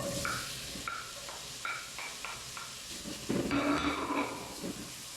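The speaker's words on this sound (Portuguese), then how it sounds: "E agora nós vamos refogar tudo." Bacon, garlic and onion sauté in an electric pressure cooker with a soft, low sizzle and hiss, broken by light stirring scrapes and clinks that swell slightly toward the end.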